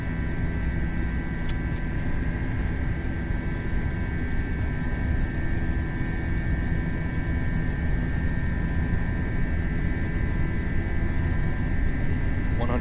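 Jet engines of a JetBlue airliner spooling to takeoff thrust on the Las Vegas runway, a loud steady roar with a sustained whine over a deep rumble, running continuously while cockpit voices call out checks.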